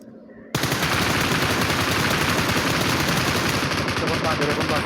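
Rapid automatic gunfire in the PUBG Mobile video game, a dense sustained burst of shots that starts abruptly and keeps rattling loudly without pause.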